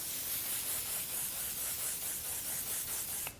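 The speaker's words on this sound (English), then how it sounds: "Last round of setting spray is the heavy hitter. This is the one size Until Dawn." One Size Until Dawn makeup setting spray releases a continuous, close airy hiss for about three seconds, cutting off sharply at the end.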